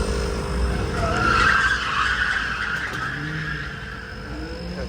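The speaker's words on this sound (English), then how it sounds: "That noise you hear in the background is all the drift stuff going on" Drift cars skid and screech continuously in the middle distance at a motorsport event, tires squealing in long overlapping waves under a steady engine roar.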